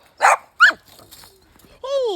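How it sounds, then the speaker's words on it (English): Dogs bark twice in quick succession, sharp and close, then fall quiet before a longer high whine or whimper rises and trails off. "You guys are probably going nuts with this barking."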